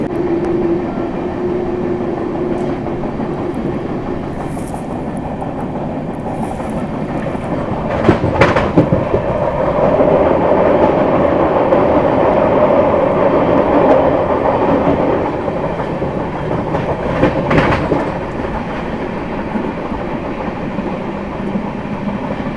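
The Shri Shakti AC Express from Katra to New Delhi runs through dense fog, overtaking a local train. A steady loud rumble of wheels on track carries clickety-clack beats, with a couple of sharper clanks along the way.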